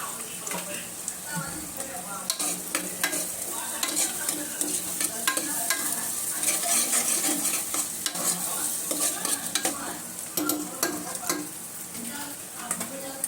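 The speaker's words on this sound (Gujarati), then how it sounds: "બટેકું તે બાફા વગર નાખ્યું છે એટલે તેલમાં થોડુંક સંતળાઈ જાય" Raw potato and onion sauté in hot oil as a spoon stirs them, giving a steady sizzle with scraping and clinking against the pan, close by.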